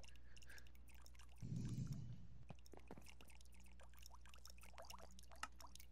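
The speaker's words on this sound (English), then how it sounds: "that drip of water keeps annoying me" Quiet dripping and trickling water in Minecraft, played in Cake Wars on the Mineplex server, with a brief soft splash near the start amid faint scattered drips.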